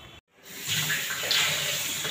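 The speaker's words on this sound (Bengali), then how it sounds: "চালটা এখন ধুয়ে নিচ্ছি" Rice is rinsed under running water at a home sink: a brief silent gap, then a steady, rising splash and gush of tap water that continues to the end.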